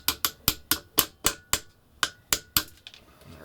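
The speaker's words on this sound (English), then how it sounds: "So we're going to need a punch and a hammer." A hammer gently taps a metal punch against an airsoft rifle's bolt catch during a Classic Army Scarab disassembly, about eleven sharp, close metallic taps in a steady rhythm, fading in the final second.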